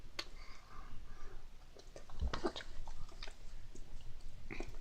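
Close, moist chewing of spicy Buldak fire noodles, with irregular soft bites, smacks and clicks spread across a few seconds over quiet room tone.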